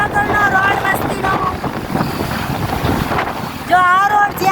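Wind rushes hard and steadily across the microphone while riding along a highway, loud and continuous, with faint whistling tones under it.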